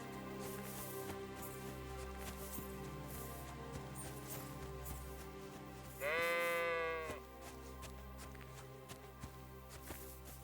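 A sheep in Kingdom Come: Deliverance II gives a single clear bleat midway, rising out of quiet game ambience and soft background music, with faint footsteps around it.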